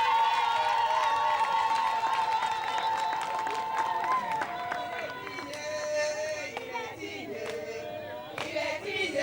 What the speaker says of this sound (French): Applaudissez pour le président.